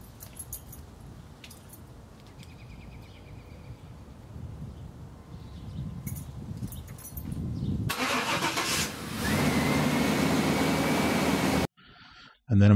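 A 1995 Chevy truck with a V8 350 engine starts by remote after a quiet stretch of faint rustling and light clatter, then settles into a loud, steady idle close by before cutting off abruptly.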